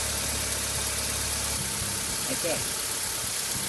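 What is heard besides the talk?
Holden Barina car engine idling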